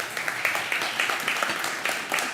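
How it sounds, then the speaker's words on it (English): Conference audience applauding guest speakers: steady, dense clapping from a sizeable crowd, continuous and fairly loud throughout. "A big round of applause to our guest speakers."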